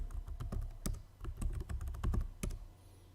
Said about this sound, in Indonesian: kemudian kita ketikkan passwordnya